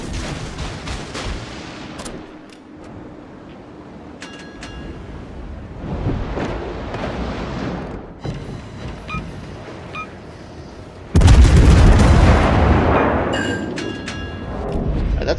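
Battleship guns fire a salvo in World of Warships, heavy booming blasts and thuds over a rumbling game background, with a loud burst of explosions late in the sequence.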